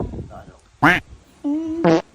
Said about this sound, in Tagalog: Baho ng utot mo